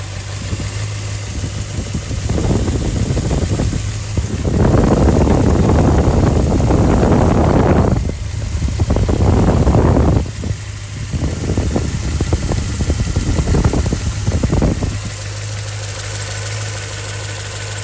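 A car engine recorded close up runs steadily at idle, then is revved in several loud surges with drops back to a rough, knocking idle between them.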